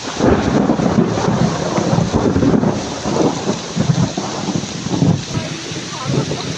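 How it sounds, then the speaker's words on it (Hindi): Outdoor storm: loud rumbling thunder with strong wind buffeting the microphone and steady rain, a dense continuous roar with surging gusts throughout, heard from shelter beneath a tree. "बादल भी जोरों शोरों से गरज रहे हैं और हवा भी तगड़ी हो रही है"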